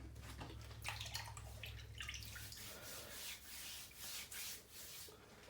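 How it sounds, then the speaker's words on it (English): Water splashed and rubbed over a shaved head by hand, a close, steady wet rubbing and swishing with a low hum early on, no talking. "And so what I do is I wet my head."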